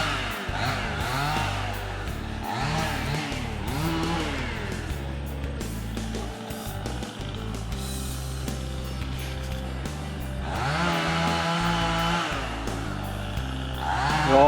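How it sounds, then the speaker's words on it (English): A 2014 562 chainsaw fitted with a pop-up piston and a muffler mod runs loud and close for the whole stretch, its engine revving up and easing back in repeated surges. "this is that 2014 562 bling saw that I built a while back with that little red barn pop-up piston and muffler mod"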